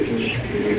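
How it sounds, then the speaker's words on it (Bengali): A breeding pair of pigeons at a bird market gives a single short, low, throaty coo, close and fairly loud, lasting under a second. "ডিম বাচ্চা করা রানিং একজোড়া কবুতর"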